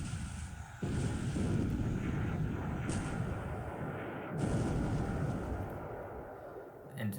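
Cruisers fire heavy shells in the War in the Pacific naval strategy game, two sudden booming salvos, each swelling into a long, loud, rolling rumble that slowly fades, with no voices.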